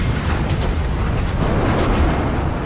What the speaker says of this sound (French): ils déchaînent leur artillerie